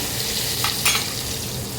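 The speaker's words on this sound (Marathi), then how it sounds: "आता या हिरव्या मिरच्या बारीक कट केलेल्या त्या टाकतो तर चांगल्या तेलामध्ये आपल्याला परतून घ्यायचं" Finely chopped green chillies frying in hot oil, a loud close steady sizzle with a couple of brief sharper spits, no voices.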